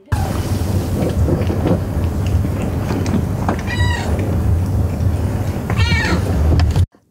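Cats in a cat cafe in Transcarpathia give two distinct meows a couple of seconds apart, rising over a steady, dense background rumble.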